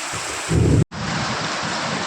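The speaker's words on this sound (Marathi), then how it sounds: "आता बघू शकता किती पाऊस पडत आहे" Steady, dense monsoon downpour hissing across the whole clip, with a brief heavier low rumble just before a split-second dropout.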